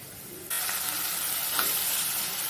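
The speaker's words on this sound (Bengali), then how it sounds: "কিমাটা একটু ভাজা করে নেব" Chicken mince frying in a pan with browned onion, ginger and garlic, a loud, steady close-up sizzle that starts abruptly and continues with light stirring, no voices.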